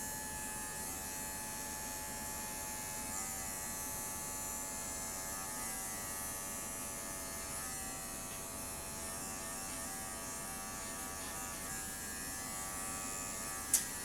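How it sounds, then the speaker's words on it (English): Electric dog clippers buzz steadily while trimming a poodle's coat, a close, continuous hum that holds unbroken for the whole stretch, with one brief knock near the end. "go back with your clipper and clean up that line so it's nice and crisp"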